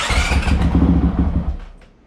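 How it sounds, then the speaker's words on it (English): Honda CRF 450X motorcycle from 2019, with the clutch switch wires joined, starting and idling loud and close, a rough engine rumble for under two seconds that fades as it cuts off. "connected them together so I don't have to pull in the clutch to start it."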